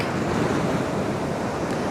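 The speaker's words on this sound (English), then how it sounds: "I love listening to the sea when it's like that." Sea surf on a windy day at Blackpool, a dense continuous roar of breaking waves mixed with gusting wind buffeting the microphone, loud and close, with no voices.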